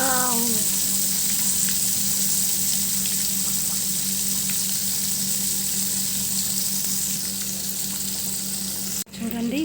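Fish pieces fry in hot oil with a loud, steady, dense sizzle that stays constant throughout, close up, with a brief dip and knock near the end.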